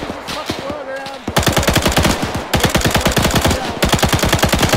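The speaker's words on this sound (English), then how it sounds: "Taking fire from HQ mark to the south approximately." Machine gun fire in Arma 3 Iron Front, a World War II manor assault: loud, rapid bursts of evenly spaced shots, broken by two short pauses, close and dominant throughout.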